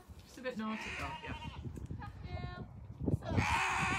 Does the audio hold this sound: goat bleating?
yes